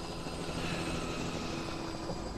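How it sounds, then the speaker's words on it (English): Helicopter flying in The Last of Us video game, a steady droning rotor and engine wash that holds at a constant level throughout with no talk over it. "What the heck is that? A helicopter?"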